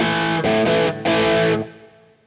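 Electric guitar played through a DryBell The Engine distortion pedal with the shape knob lowered, a few sustained distorted chords that ring out and then fade.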